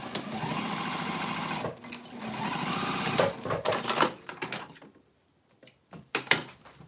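A sewing machine stitches a bowler bag together, a close steady whir for several seconds, then short stop-start bursts and a pause before a few final quick runs.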